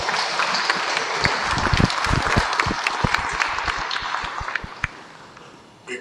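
Audience applause at a book launch ceremony in Congo, steady broadband clapping from a crowd with some louder individual claps standing out, sustained for several seconds before tapering off at the end.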